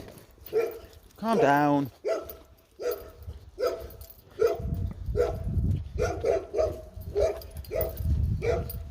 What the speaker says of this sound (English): Labrador there barking.